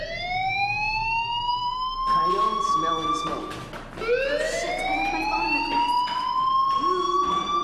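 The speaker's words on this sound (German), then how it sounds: "Hey, do you hear that fire alarm?" A fire alarm rings in Life is Strange, two loud rising-and-falling siren sweeps that fill the clip continuously, with game speech mixed underneath.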